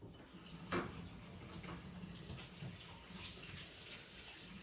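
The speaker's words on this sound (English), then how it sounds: "Washing my hands a little bit." Hands being washed under a running kitchen water tap, a steady close hiss of flowing water with light splashing, alone and fairly quiet.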